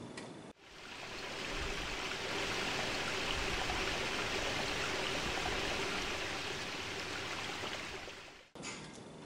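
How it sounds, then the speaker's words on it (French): Steady broadband wash of sea waves on a beach, a continuous surf roar holding constant for several seconds with no pauses, fairly distant and even, no voices. "le bruit de la mer, le murmure des vagues m'a bercé"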